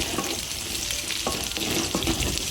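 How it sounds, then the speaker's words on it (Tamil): Two green chillies and two dried red chillies sauté in sesame oil in a pan, giving a steady, close sizzle with light stirring crackles throughout and no talking. "பச்சை மிளகா டேஸ்ட்டுக்காக ரெண்டே ரெண்டு மிளகா நல்ல எண்ணெயில் வதக்கணும்"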